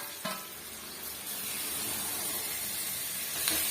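Ginger garlic paste and onions sizzle in a pan, a steady close frying hiss that swells slightly after the first second, with a couple of faint utensil taps, no voices.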